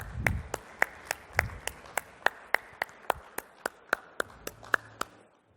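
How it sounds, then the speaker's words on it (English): An audience at the Global Fintech Festival applauds a team on stage, with sharp claps landing in a steady, even rhythm, fairly close and without talk. "A big round of applause,"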